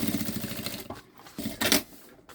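Sewing machine topstitching a seam through the lining of a synthetic backpack, running in short bursts with brief pauses between them, close by.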